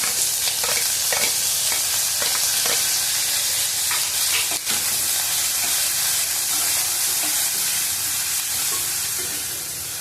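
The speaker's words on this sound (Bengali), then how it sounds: "জিরেটা ভাজা হয়ে গেছে পেঁয়াজ কুচি দিলাম" Chopped onion frying in oil with whole cumin and bay leaf in a home kitchen, a steady close sizzle with intermittent stirring clinks and scrapes running throughout, no talking.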